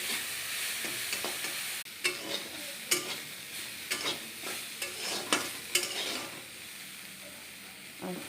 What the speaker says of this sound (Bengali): আর একটু ভাজতে হবে, একটু ভাজতে বাকি আছে।